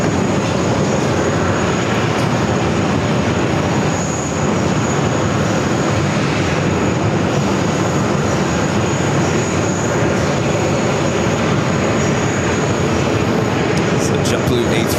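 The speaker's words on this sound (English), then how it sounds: "JetBlue A320" A JetBlue Airbus A320 airliner at JFK airport fills the clip with a steady, loud engine roar that holds broadband noise throughout without letting up.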